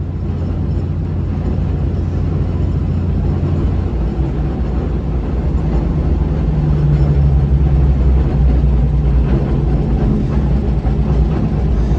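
The engine of a John Deere 55 combine runs at about 1,700 RPM, a loud, steady, low rumble that continues without a break.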